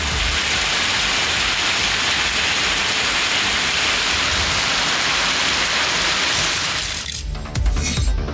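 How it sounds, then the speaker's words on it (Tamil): Heavy rain pours in a dense, loud, continuous roar, steady throughout before easing slightly near the end, with no voices. "இதேபோல விருதுநகர் மாவட்டம் ஸ்ரீவில்லிபுத்தூரில் வன்னியம்பட்டி, மம்சாபுரம் ஆகிய பகுதிகளில் கனமழை பெய்தது."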